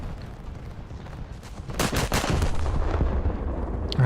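Naval video game battleship main guns firing armor-piercing shells, a heavy low boom that swells into a loud sustained roar of blasts midway, close and dominant.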